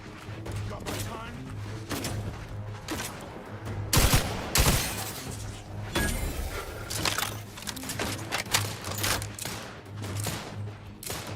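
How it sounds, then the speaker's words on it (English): Rapid bursts of gunfire from a powerful gun in The Outer Worlds 2, loud repeated shots with a heavier cluster in the middle, and someone talking over them. "This gun's really fucking powerful."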